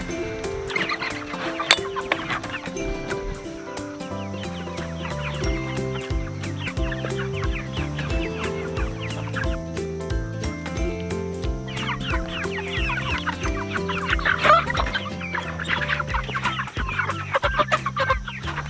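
A flock of meat chickens clucks and murmurs continuously at close range, overlapping calls and busy chatter filling the whole stretch, with no talk.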